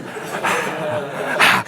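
A person imitates a dog being tickled, making yipping, whimpering and panting noises in quick bursts, close and fairly loud.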